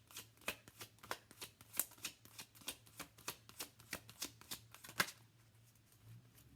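Tarot cards are riffled and shuffled by hand in quick, even flicks, each one a crisp soft snap, heard quietly and close in a still room with no talk.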